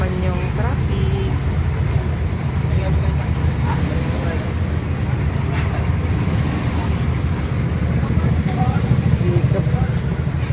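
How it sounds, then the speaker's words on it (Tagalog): Continuous roadway traffic rumbles at a busy palengke, a dense low hum of cars and buses that stays steady throughout, with someone talking over it. "Ayan o, tukod na naman yung traffic."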